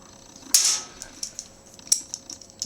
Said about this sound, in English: And we're just going to tighten this bolt back into place.